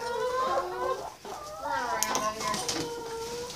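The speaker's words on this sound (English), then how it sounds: "This is the coop of chickens." Chickens cluck and squawk in a farm coop, several birds calling in overlapping bursts, close and fairly loud, with someone speaking over them in places.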